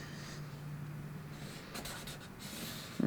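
A pen draws a line while fabric is marked for a fit adjustment, a faint soft scratching stroke, close and quiet with no talk.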